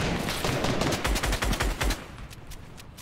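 Fortnite gunfire rattles out in a fast, loud automatic burst of closely spaced shots, then thins to a few sharper isolated cracks before stopping.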